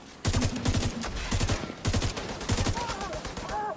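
A SIG pistol in Tom Clancy's The Division 2 fires in quick bursts of sharp shots with brief pauses between volleys, loud and close, while other game sounds play underneath.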